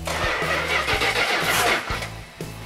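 A Hemi V8 on an engine run stand cranks and catches, its starter and rough, loud idle pulsing unevenly with sharp firing bursts throughout.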